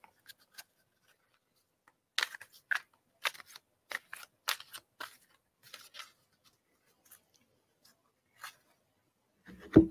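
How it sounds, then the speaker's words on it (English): Oracle cards being shuffled by hand during a reading, quiet sparse bursts of crisp card riffles and slides separated by near silence, close and soft, ending with a louder thump. "Let me shuffle them up here."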